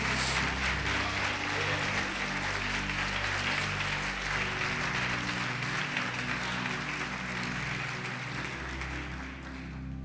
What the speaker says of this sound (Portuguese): Você pode aplaudir o Senhor Jesus e glorificá-lo